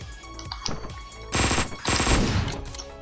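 An Uzi submachine gun in Hotline Miami 2 fires in short, loud bursts, with a few quick shots followed by two longer, denser rattling volleys in close succession.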